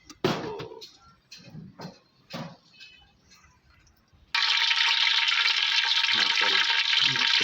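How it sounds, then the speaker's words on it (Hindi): Ghee frying hard in a pot on a flame, with leftover water making it spit: a loud, steady sizzle takes over after several seconds of quieter knocks and stirring sounds. "पतीले में पानी था इसलिए घी की आवाज़ ऐसी आ रही है।"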